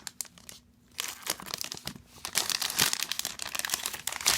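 Plastic packaging around an iPad case is cut open and pulled apart, giving close, crisp crinkling and tearing that starts sparse and grows into steady rustling.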